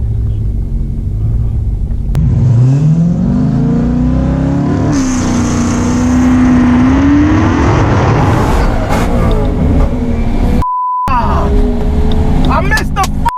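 A modified Dodge Hellcat accelerating hard on a quarter-mile drag run, its engine roaring loud and close with a rising rev sweep, a brief break, then more revving as someone shouts over it.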